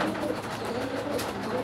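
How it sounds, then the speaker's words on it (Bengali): Raj Golla pigeons, a pair of mili-coloured birds, coo with low, steady throaty murmurs that blend into a dense, continuous backdrop, close by and without any talk. "এখানে আরেক জোড়া মিলি কালার রাজগোল্লা কবুতর"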